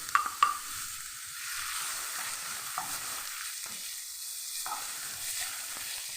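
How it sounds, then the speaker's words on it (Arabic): Minced onion dropped into two spoonfuls of hot oil in a pan, sizzling in a steady, even hiss after a couple of sharp clinks at the start, with occasional stirring sounds and no voices. "واول ما سخنوا هننزل كده بسم الله عليهم بالبصل المفروم"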